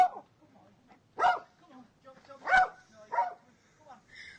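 A dog barks in short separate bursts, a few loud yelps spaced about a second apart with softer whimpers between, close and otherwise quiet.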